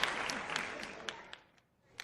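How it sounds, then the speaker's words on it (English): Applause for a podcast guest, a short burst of clapping under faint voices, trailing off into a few scattered claps. "Give Danielle some claps in the chat."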